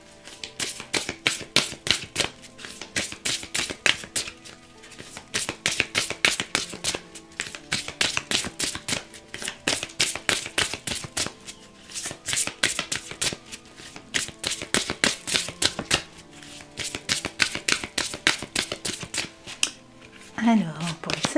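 Deck of oracle cards being shuffled for a reading, a long run of quick crisp riffling bursts repeating in steady clusters, close and fairly quiet, with someone speaking French intermittently over it.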